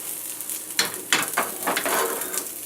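An omelette is flipped and folded in a frying pan, several quick spatula scrapes and soft thuds over a continuous close sizzle of hot fat.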